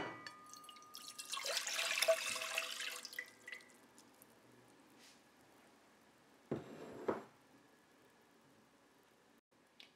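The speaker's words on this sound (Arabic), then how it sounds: "دابا غناخد اخواني اخواتي هاد جوج كؤوس ديال الماء كيف ما كتشوفوا، غادي نحطهم في واحد الطنجره" Two glasses of water poured into a cooking pot, a soft splashing pour lasting a couple of seconds followed by a shorter second pour, quiet and close in an otherwise still kitchen.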